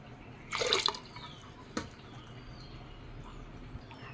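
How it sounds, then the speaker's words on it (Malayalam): Sago pearls being washed in water: a short burst of splashing and sloshing, followed by a single small drip and quiet stillness. "ഇതാ കുറച്ച് ചവ്വരി ഇടുന്നുണ്ട് ഇതൊന്ന് കഴുകിയിട്ട് ഇതിലോട്ട് ഇട്ട് കൊടുക്കാം"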